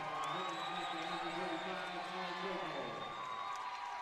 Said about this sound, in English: If you're hearing that round of applause